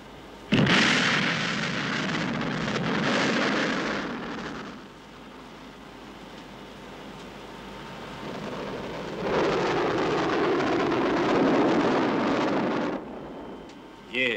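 Missile launch and blast in a 1965 Soviet comedy film scene: a loud roaring burst for about four seconds, a quieter rumbling lull, then a second long roaring surge before cutting off.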